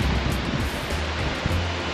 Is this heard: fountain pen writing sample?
no